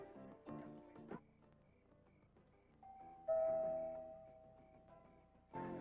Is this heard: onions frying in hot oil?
no